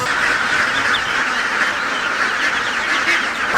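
A large flock of about 500 ducks on a fish pond quacks nonstop, a dense, even chorus of overlapping calls with no pauses.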